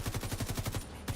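A rapid string of about ten evenly spaced gunshots rattles off quickly and sounds like automatic fire rather than single shots from a .460 magnum pistol, then there is a short gap and one final shot.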